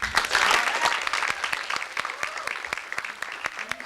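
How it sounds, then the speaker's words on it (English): Applause from a seated audience at a vocal group concert, loud at first and then thinning to scattered, lingering claps. "hold your applause to the end"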